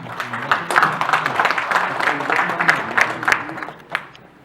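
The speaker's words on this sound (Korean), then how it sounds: "큰 박수로 맞아주시기 바랍니다" An audience at an academic seminar marking the centenary of Korea's March 1st Movement claps moderately to welcome a presenter, a sustained patter of hands with faint voices beneath, tapering near the end.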